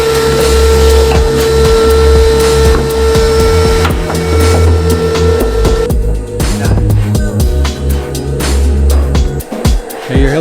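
A loud, steady vacuum cleaner drone runs continuously with a constant motor whine, close up, with rough hose noise and some thumps near the end, while sound deadening loosened with dry ice is cleaned from a BMW E46.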